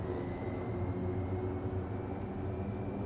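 Air Tractor AT-802A plane engine in MSFS2024, a steady, loud droning hum with a constant low rumble throughout and no talking.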